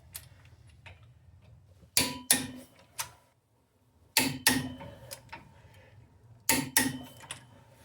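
A torque wrench clicking while lug nuts are tightened to 170 foot-pounds on a GMC/Chevy 1500/2500/3500 HD truck, in three pairs of sharp metallic clicks separated by pauses over a faint background hum.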